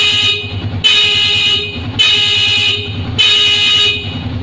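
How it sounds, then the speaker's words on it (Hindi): A motorcycle horn sounds in three loud, evenly spaced blasts, each about a second long, over a low idling engine rumble on a bike fitted with a DIY battery. "इसके हॉर्न को ऑन करेंगे और आपको चेक कराएंगे।"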